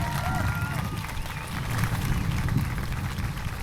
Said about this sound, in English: Can you all clap if that was powerful?